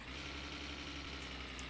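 Van engine in the My Summer Car video game, a steady mid-pitched engine drone with low rumble held at constant revs throughout, loud and continuous with no talk.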